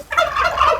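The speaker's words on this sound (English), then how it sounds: "There's Bruno chasing the rooster." A Bresse rooster squawks and gobbles in a rapid, loud burst of cries while a dog chases it around a backyard flock.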